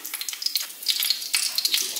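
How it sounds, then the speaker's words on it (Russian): Garlic frying in vegetable oil in a pan on the stove, a close, steady crackling sizzle with bright spattering pops throughout. "Добавляю на сковородку чеснок."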